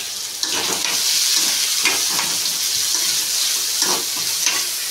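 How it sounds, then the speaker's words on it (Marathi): Onion frying in a pan for spicy Maharashtrian besan pithla, a loud, close, continuous sizzle and crackle with gentle surges as the pieces are stirred, and no talking. "आता कांदा फ्राय होतोय"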